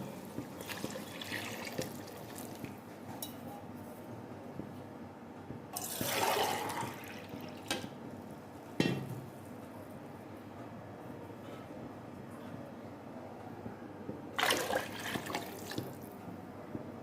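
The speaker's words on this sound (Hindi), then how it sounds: "दो लीटर डालेंगे पानी," Water poured into a cooking pot, about two liters, while making matar pulao: two broadband splashing bursts a few seconds apart over a quiet kitchen background, with no talking.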